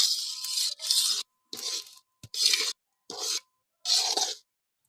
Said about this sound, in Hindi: सूजी को ऑयल में थोड़ी देर के लिए भून लेंगे।